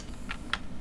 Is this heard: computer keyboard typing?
yes